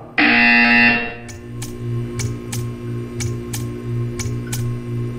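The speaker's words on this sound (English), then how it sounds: "You will hear a buzzer." A harsh electronic buzzer in the video game Portal 2 blares for about a second, followed by a steady hum and a series of regular ticking clicks.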